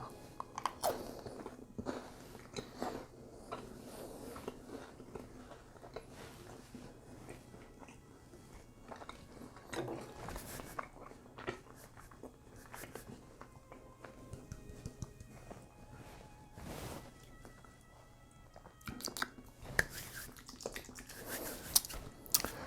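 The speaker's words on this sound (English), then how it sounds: "We'll take this piece and just bite on into it." A caramel chocolate snack bar being bitten and chewed close to the mic, soft crunches and sticky squishy chewing repeating quietly with small handling noises.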